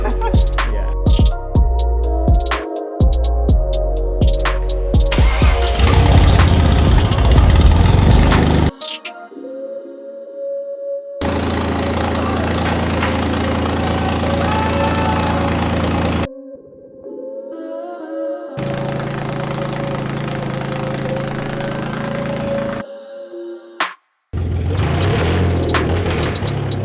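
A 2.8 V6 Audi B5 with a manual gearbox and straight pipe exhaust runs loud and close, its steady engine drone broken into several cut sections with short silent gaps between them.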